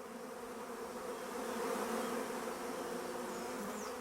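A dense swarm of honey bees drones in a steady, loud buzz that fills the space, swelling slightly in the middle, with a few individual bees passing close by.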